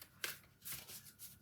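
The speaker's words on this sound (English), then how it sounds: "We will shuffle the cards and see what I'm being drawn to for you for this month." Oracle cards being shuffled by hand, a few soft papery riffles and slides in quick bursts, close and fairly quiet with no talking.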